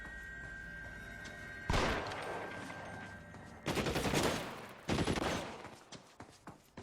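Gunfire bursts in the L.A. Noire video game: a heavy volley at about two seconds, then two more loud barrages with a sharp crack between them, each settling into a rolling tail.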